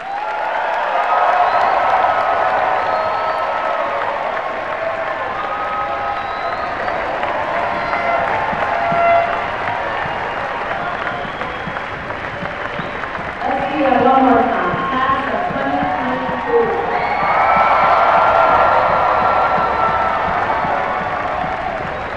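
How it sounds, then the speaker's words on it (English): A graduate commencement audience at Fitchburg State applauds the class of 2022, giving dense sustained clapping with some cheering that swells near the end and fills the whole stretch. "Let us give our graduate students of the class of 2022 a round of applause."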